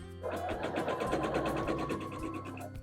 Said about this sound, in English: now I've got to sew down the other